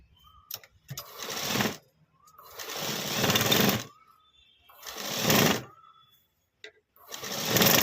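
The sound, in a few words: sewing machine stitching a top's shoulder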